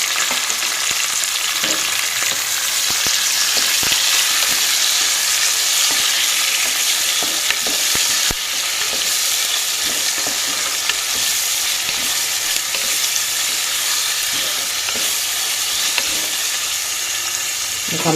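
Chopped onions and green chillies frying in hot oil for quinoa khichdi give a loud, continuous crackling sizzle, punctuated by occasional spoon scrapes and stirring knocks, steady throughout.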